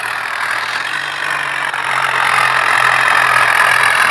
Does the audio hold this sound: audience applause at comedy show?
no